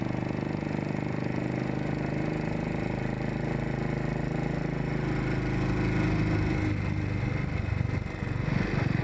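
A Royal Enfield motorcycle engine runs steadily up close, a continuous rough mechanical drone with a slight shift in pitch near the end.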